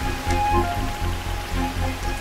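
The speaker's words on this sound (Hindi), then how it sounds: "बारिश हो रही है" Steady rain falls and patters on surfaces as a continuous even hiss with a low rumble underneath, with no voices.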